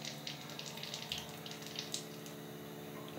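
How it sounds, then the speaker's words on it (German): Water sputters and hisses from a tap on an Osminion Slim reverse-osmosis filter system, an uneven faint splashing flow with small bursts, close and alone without voices. "Oben öffne ich den Wasserhahn und es sprotzelt kurze Zeit grau aus dem Hahn."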